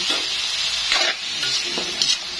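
Boiled pork is stirred and sizzling in a hot cooking pan, a steady frying hiss broken by a few scraping sweeps of the utensil, close and fairly loud with no talk.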